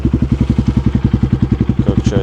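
A BRZ MX5 PR300 enduro motorcycle engine fires up and runs with a steady, fast, loud thumping beat, close by and alone.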